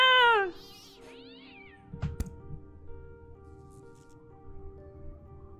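A cat in the video game Fran Bow lets out a loud, drawn-out yowl that falls in pitch at the very start, followed by a soft thud and quiet game ambience.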